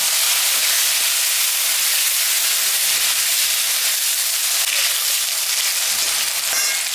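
Onion and tomato sizzle in a hot cooking pan, a steady bright hiss of frying that carries on without pause, close and fairly loud, with no talking.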